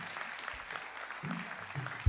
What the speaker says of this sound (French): avec les applaudissements du public